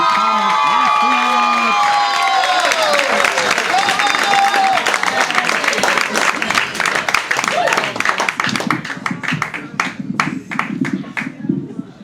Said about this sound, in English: Clapping and making me nervous.